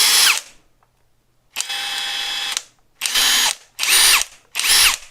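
A copy of a Makita DTD171 cordless impact driver spins freely in several loud bursts, one steady whine and then three short runs at changing speeds, separated by silence.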